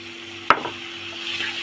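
Rinse water from a mixer jar poured into a hot khichuri pot, making one sudden splash that gives way to a continuous sizzle and bubbling.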